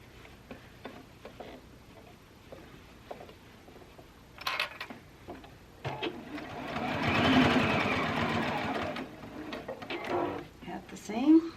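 A sewing machine stitching fabric for a machine cover, quiet ticks at first, then a steady mechanical whirring run in the middle that rises and fades, with a person talking softly around it.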